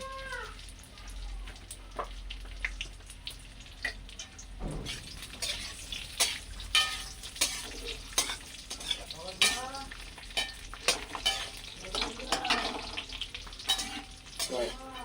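Cashews and raisins frying in ghee, a soft steady sizzle with rhythmic stirring scrapes, close but fairly quiet, while a cat meows in rising calls in the background.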